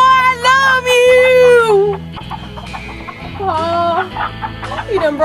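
Chickens in a coop cluck and squawk loudly and close, with a long rising-falling squawk early on, then a burst of overlapping clucks, set against a sustained musical hum.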